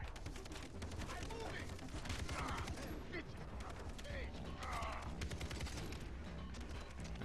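Gunfire in the video game Far Cry 3, a rapid run of sharp shots crackling across several seconds and mixed with other game noise.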